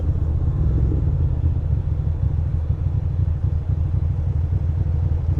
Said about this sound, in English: We got a little race between these two trucks, I'm guessing.